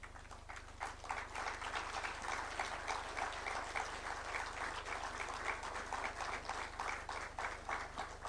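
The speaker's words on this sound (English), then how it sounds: "we can give them an applause and acknowledgement" Steady applause from a crowd, continuous clapping at moderate volume with a low hum underneath and no talking.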